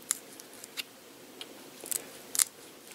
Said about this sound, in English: I'm going to grab my scissors, and I'm just going to gouge the hole